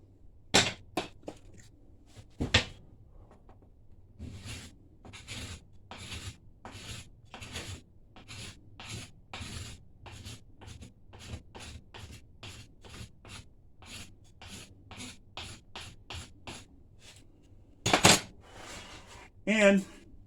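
A crayon rubs across a hickory wood self bow in a steady run of short, scratchy strokes, about two per second, heard up close. A few louder knocks and handling sounds come at the start and near the end.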